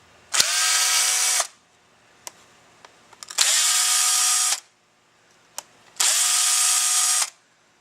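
A power drill backs screws out of a Chrysler AC pump in three steady, loud whirring bursts of about a second each, with small clicks and taps of the tool and parts in the pauses between.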